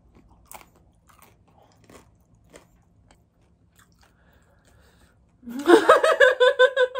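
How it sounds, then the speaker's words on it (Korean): Someone bites into air-fried diet chicken coated in crispy rice paper. After quiet handling noises, a series of loud, close crunches follows in quick rhythm. "한번 진짜 바삭한지 먹어보도록 하겠습니다"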